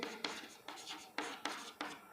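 Marker or chalk strokes on a board during an English letter-writing lesson, five or six short scratchy bursts in an irregular rhythm, close and fairly loud with no talk over them.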